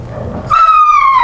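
A dog barks loudly inside a house during a dog-training session, one strong, drawn-out, slightly falling bark that follows a brief stretch of low background noise.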